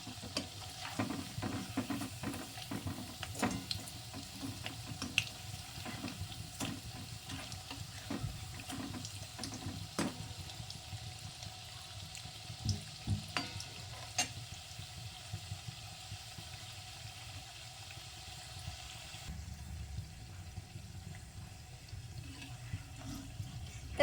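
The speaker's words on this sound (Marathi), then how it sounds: "तेलात सोडल्यावरती ना तेल गॅस थोडासा कमी करायचा म्हणजे आतमध्ये व्यवस्थित त्या भाजून भाजून जातात" Chakli frying in oil on a lowered flame, a quiet continuous bubbling sizzle with scattered small pops and occasional stirring clicks over a long stretch.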